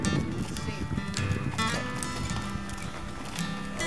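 A horse being ridden moves with steady clip-clop hoofbeats. A person talks over the hoofbeats throughout.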